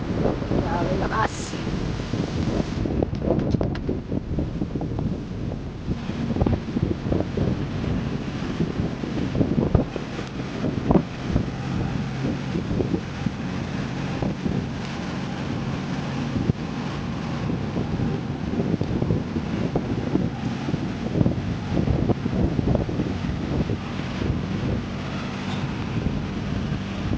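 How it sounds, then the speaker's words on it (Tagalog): Strong wind buffets the microphone in a steady roar throughout while riding a bike, with a voice speaking now and then beneath the gusts. "maraming lakas naman ang hangin."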